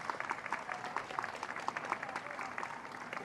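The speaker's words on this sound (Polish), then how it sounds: "A Państwa proszę o ogromne brawa dla wszystkich wystawianych dzisiejszych psów." Faint applause from an outdoor gathering at a hunting music festival, a crowd clapping for the dogs shown, with steady scattered claps heard from a distance.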